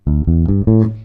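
Three plucked bass notes in a row, each a deep, round tone with a clear attack, the last ringing out longest and slowly fading.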